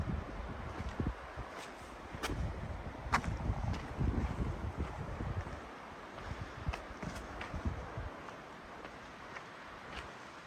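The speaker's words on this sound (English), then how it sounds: "Listen to that wind, both of those pines." Wind gusts through pine trees at a Grand Canyon rim overlook, a soft, continuous rushing that swells and fades in irregular waves, faint and distant with no voices.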